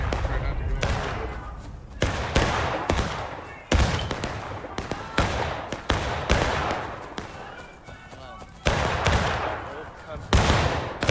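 Rifle volleys in a multiplayer musket-era war game, repeated loud gun blasts every second or so, each with a decaying echo, with players talking throughout.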